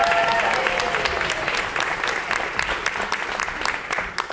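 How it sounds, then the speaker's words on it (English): A crowd claps steadily, close and fairly loud, the applause holding throughout before easing slightly toward the end. "let's give him a round of applause."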